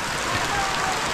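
Rain falls steadily and close by in cool weather, a dense even patter with no pauses, while a person speaks over it throughout.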